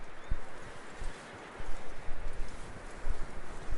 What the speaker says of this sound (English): Get that horse hitched. Don't want him bolting.